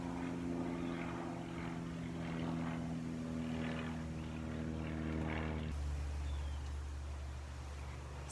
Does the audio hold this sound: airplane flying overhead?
yes